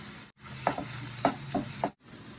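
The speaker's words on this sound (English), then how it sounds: "Magsasaute tayo ng onion garlic. Lagyan natin yung ating tomato paste." Onion, garlic and tomato paste sauté in a pan for marinara sauce, a soft frying sizzle broken by four distinct stirring scrapes, close and fairly quiet, with no voices.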